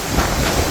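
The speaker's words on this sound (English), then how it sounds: "It was so windy and drizzling as well that salty water was splashing on my face and the floor." Strong wind buffets the microphone on a wet cruise ship deck in drizzle and salt spray, a dense, loud, continuous roar with no voices.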